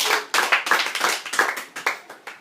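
High school debate crowd giving a short round of clapping for a debater, quick uneven hand claps close by, fairly loud and steady to the end.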